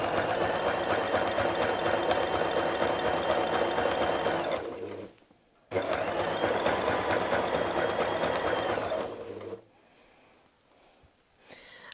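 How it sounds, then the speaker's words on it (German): A sewing machine runs a zigzag stitch across a fire-fish quilt appliqué in two long, loud, steady bursts with a short stop between them, then falls quiet with light handling noises. "Wechseln zum Zickzack und nähen nun mit einem Zickzackstich bis zur Flosse"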